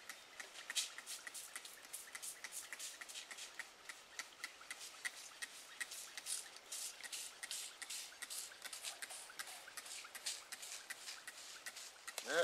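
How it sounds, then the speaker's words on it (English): Grape-scented bear attractant sprays up into the air in the woods, a long run of short, rapid hissing bursts at close range, with faint rustling underneath. "Spray that up high so the scent gets around through the woods."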